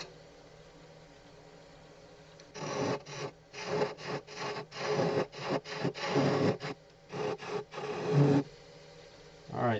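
Bursts of broadband rasping as a spindle gouge bites into spinning wood on a lathe while turning a long-stem goblet, several cuts separated by brief pauses over a steady low motor hum.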